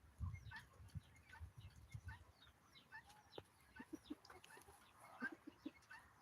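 Chickens cluck softly in short, scattered calls at a distance, over a quiet outdoor background with occasional low thumps.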